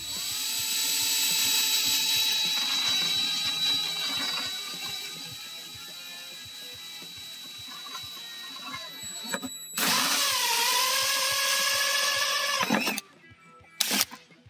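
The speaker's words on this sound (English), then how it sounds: "Use the 1-inch hole saw to cut a hole." A power drill whines steadily as a 1-inch hole saw bites through a Kawasaki MULE PRO-FXR panel, pausing and restarting, then cutting briefly again near the end.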